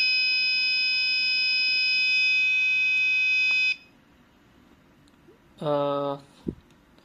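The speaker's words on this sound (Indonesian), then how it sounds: "buzzer akan berbunyi saat kata door muncul pada LCD" A harsh electronic buzzer beeps in one long sustained tone when "door" appears on an LCD, then silence, then a shorter buzz and a brief click.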